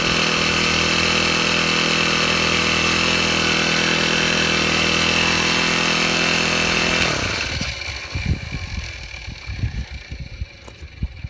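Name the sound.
Honda GX35 trimmer engine running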